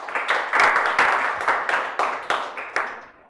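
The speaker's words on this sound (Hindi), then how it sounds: "Round of applause." A classroom of students gives a round of applause: dense, even clapping that swells quickly, holds for a few seconds, then thins out with a few last sharp claps.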